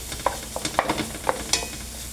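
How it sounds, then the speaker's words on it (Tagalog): Food fries in a pan while being stirred. Soft sizzling runs underneath, broken by several sharp scraping and clinking strokes, with no talking. "Fry lang. Fry."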